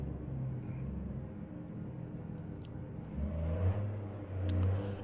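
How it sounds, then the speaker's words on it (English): A low truck engine rumbles steadily in a trucking video game, swelling slightly as it revs near the end, fairly quiet with no voices. "But my engines sometimes sound like crap."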